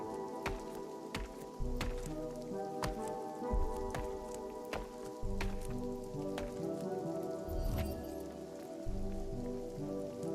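Steady rain pours in a PVP survival game at dusk, a dense continuous hiss with scattered sharp drop ticks and crackles, heard alone without talk throughout.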